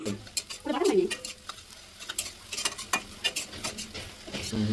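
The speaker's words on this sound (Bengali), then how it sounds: "রসুন বাটাটাকেও ভালো করে ভেজে নিই।" Garlic paste fries with onions in a pan for a Bengali-style egg curry, giving soft sizzling and scraping stirs. A short voice-like sound comes near the start and light clinks follow.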